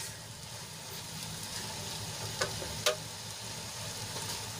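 Okra cooking with a peanut-and-sesame masala gives a steady low sizzle in a pan, broken by two brief scraping clicks of a spoon near the middle, with no talking.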